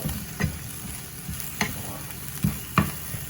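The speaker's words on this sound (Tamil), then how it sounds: "இந்த எல்லாத்தையும் சேர்த்து கிளறுங்கோ" Cabbage and egg stirred in a hot pan, giving a steady low sizzle with a few louder scraping stirs spaced irregularly, close and fairly quiet with no talking.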